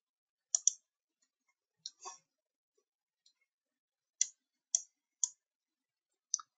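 A computer mouse clicks in short, crisp pairs and singles, about seven scattered clicks spaced unevenly over several seconds against near silence.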